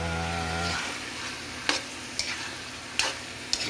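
Vegetables stir-fry in a pan with a steady close sizzle, punctuated by four sharp scrapes or knocks of the utensil against the pan, after a brief low hum at the start.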